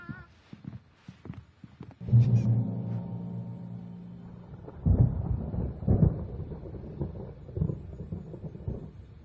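Thunder rolls in a storm in the video game Alan Wake Remastered: a deep, heavy rumble breaks in after a moment of soft ambience and swells repeatedly, loud and close, with lighter rattling over the top.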